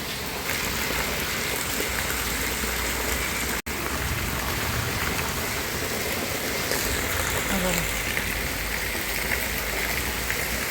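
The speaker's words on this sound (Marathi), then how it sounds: "एवढा मोठा पाऊस यायला लागला आहे" Heavy rain pours down in a steady, dense roar, loud and continuous with one brief cutout partway through, during a cloudburst.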